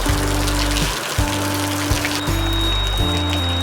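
Steady rain pours down close by, a dense continuous patter with a low rumbling hum running underneath.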